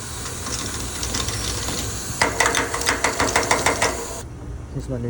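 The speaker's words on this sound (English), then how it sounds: "I'm gonna blow some nitrogen through the system to get not just the air out" A steady hiss of nitrogen rushes through refrigerant piping, joined midway by a rapid rattling mechanical chatter before cutting off abruptly.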